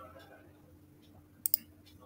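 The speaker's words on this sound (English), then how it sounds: "So just select that particular line and click on run." A computer mouse double-clicks to run a line of code, two quick, sharp clicks close together against faint room tone.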